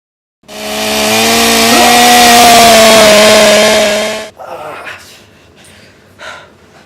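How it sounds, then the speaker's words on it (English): A chainsaw runs at a loud, steady high-pitched drone for about four seconds, then cuts off abruptly, leaving quieter scattered noises and a voice afterward. "That chainsaw has been flying through this room for the past week or so."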